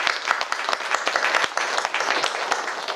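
A church congregation applauds during a Sunday morning worship service, many hands clapping in a brisk, crackling burst that carries through the whole moment.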